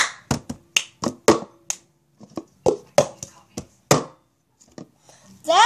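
Sharp hand claps in a children's cup game, a quick series of close, crisp slaps and claps mixed with cup taps in an uneven rhythm, with a voice briefly heard toward the end.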